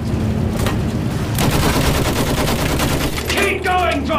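Battlefield 1 machine gun fire in a battle around a church, continuous loud rapid shots throughout with a chaotic battle mix and faint shouting.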